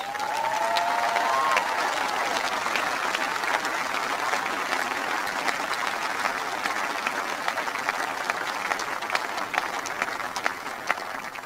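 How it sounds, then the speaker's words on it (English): A large crowd gives a sustained round of applause for a service member's family at an event featuring Barack and Michelle Obama, dense clapping holding steady for over ten seconds, with a brief voice or tone near the start. "Give him a big round of applause"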